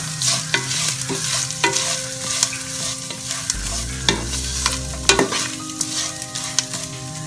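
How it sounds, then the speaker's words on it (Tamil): Grated coconut frying in a pan for South Indian coconut rice, with a steady close sizzle and frequent spatula scrapes and clinks against the metal as it is stirred. "தேங்காவையும் நல்லா செவக்க வதக்கணும்"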